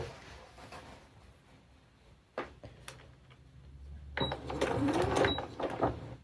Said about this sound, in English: You're just going to sew all the way around the rectangle, and we're going to pivot at each corner